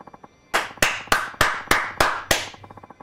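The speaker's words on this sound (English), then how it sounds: "Applause, please." Seven sharp, evenly spaced bursts of applause from the video game Yakuza 5, each one loud and decaying quickly, with soft taps before and after and no one speaking.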